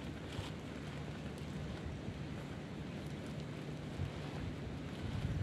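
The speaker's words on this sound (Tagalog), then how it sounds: "Mahangin na." Steady wind blowing outdoors on an island in Hong Kong while a tarp shelter is set up, a continuous low rumble with gusty buffeting across the microphone, no voices.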